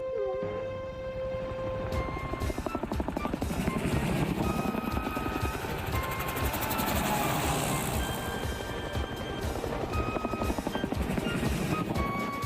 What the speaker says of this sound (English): That night, 6 helicopters and 200 troops squelched into London under the command of one Colonel Buffy.